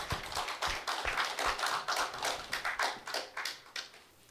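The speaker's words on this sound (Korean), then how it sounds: "여러분의 뜨거운 박수로 시작하겠습니다." An audience applauds at the start of a 2023 speech contest, giving a brisk run of distinct, close claps in an uneven rhythm that thins out toward the end.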